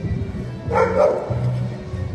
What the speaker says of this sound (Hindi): यहाँ के कुत्ते भी भौंकते हैं